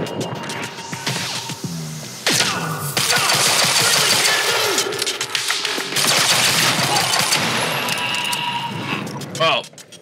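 Shotgun blasts and gunfire in the video game Quantum Break ring out as loud, dense bursts through most of the stretch, mixed with game effects while a player talks over the action.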